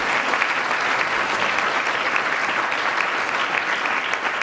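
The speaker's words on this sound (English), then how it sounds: "Give yourselves a round of applause." Audience applause in an indoor ceremonial gathering at the White House, a dense, steady wash of clapping from many hands that holds loud and unbroken throughout.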